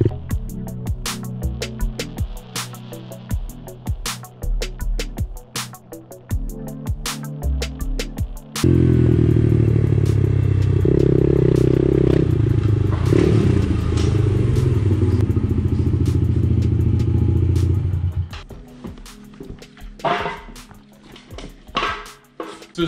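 A dirt bike ridden with a helmet chin-mounted GoPro: rattling clatter and thumps give way to a loud, steady engine roar for about ten seconds, then bumpy knocks return.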